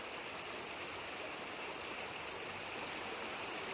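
Dark peat-coloured river water of the Suna in Karelia rushes and churns between rocks, a steady close broadband roar that holds evenly throughout with no voices.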